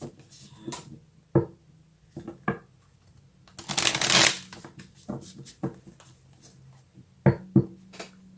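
Tarot cards shuffled by hand in a string of crisp riffles and soft slides, with one longer rushing burst in the middle and scattered sharp snaps toward the end, close and clear with no talking.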